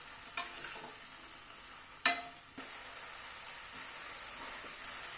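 Sugar is stirred into a simmering tomato and spring onion curry, a low sizzle under a few scattered scrapes and one sharp clink of the spoon against the pan, quiet and without talking.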